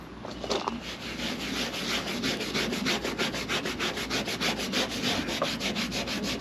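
Rusty metal being scrubbed by hand after a muriatic acid soak, a quiet rhythmic rasping of quick back-and-forth strokes that repeats steadily and close up.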